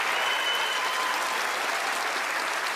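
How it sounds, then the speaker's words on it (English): A studio audience at Penn & Teller: Fool Us gives warm applause as the two magicians join the stage, a loud, dense wash of clapping that stays even throughout with no talk over it. "let's give them a warm round of applause as they join me up onto the stage"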